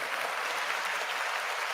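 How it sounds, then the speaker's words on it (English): Brief, even applause from many hands, steady and moderately loud for under two seconds with no voices over it. "You got to give them a round of applause."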